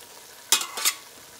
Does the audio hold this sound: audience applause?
no